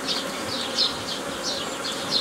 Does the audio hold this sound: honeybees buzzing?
yes